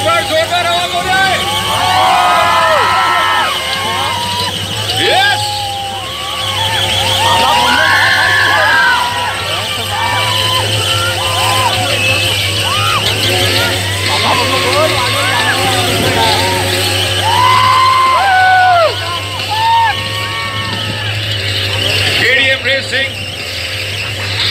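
At a KTM stunt show on Tithal Beach, Valsad, a crowd cheers and shouts continuously while motorbike tyres squeal and engines whine nearby, with a steady hubbub of voices and a low hum underneath.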